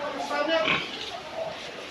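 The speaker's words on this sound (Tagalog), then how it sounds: "Tapos lalaki ng baboy rito." Large pigs grunt and oink close by in Montalban, Rizal, their sounds mixing with a person talking.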